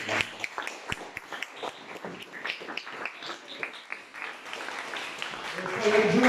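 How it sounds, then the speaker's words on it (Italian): Audience applause at a presentation event in Ciociaria, a room of people clapping in a loose, uneven rhythm that holds steady, with voices and a brief sharper sound rising near the end. "Vediamo se l'applauso."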